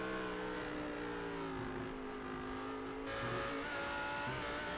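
Audi GT3 race car in a racing video game, leading at Daytona road course, engine droning steadily with harmonic whine shifting pitch as it gears down, continuous and fairly close, no talk.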